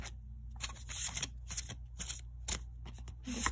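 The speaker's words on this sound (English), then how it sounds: "These are bigger cards than my hands are used to shuffling." Large tarot cards are riffled and shuffled close up in quick, uneven bursts of crisp flapping and shuffling sounds, with no voices.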